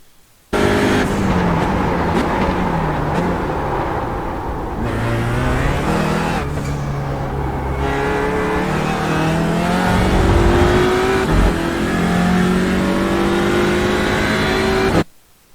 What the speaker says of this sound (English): And that's a lap of Spa on the TCR Audi.